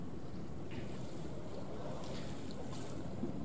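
Rough sea off Phú Quý island, where Bình Định purse-seine fishing boats shelter from strong wind, heard as a steady broadband roar of wind and breaking waves throughout, close and loud, with no voices.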